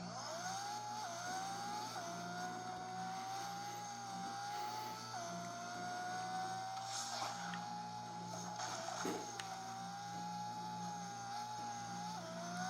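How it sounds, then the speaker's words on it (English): A motorcycle engine drones steadily in Rocket League, faint and continuous, its pitch climbing and then dropping back at regular intervals as though shifting through gears while riding. "Jump on this motorcycle quick."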